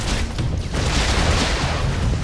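Rapid missile launches and explosions from the side-scrolling action game Broforce, a dense continuous barrage of booms and blasts filling the whole stretch at steady loudness.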